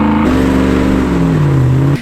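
A Land Rover LR4 engine revs in a steady, loud sustained drone, holding near one pitch and then easing lower before cutting off near the end; no voices.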